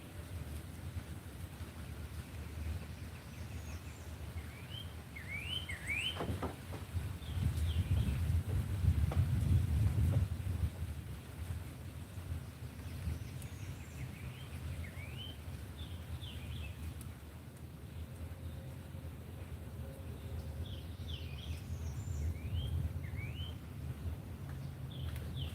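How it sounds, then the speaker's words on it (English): Birds chirp outdoors in quick short bursts against a steady windy rumble, sounding fairly far off and faint over the whole stretch. "You hear the birds? Do you hear the birds?"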